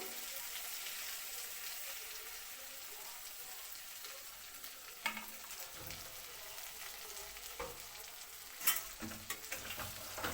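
Spice paste with garlic paste, turmeric and red chili powder frying in a pan for a Bengali mustard greens-stem dish, a soft steady sizzle joined later by several clattering spatula strokes.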